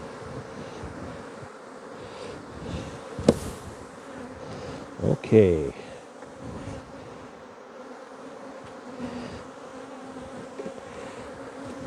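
Honeybees buzz in a thick, continuous drone around a hive box during a honey flow shakedown, close to the listener, broken by a couple of sharp knocks and a brief spoken word.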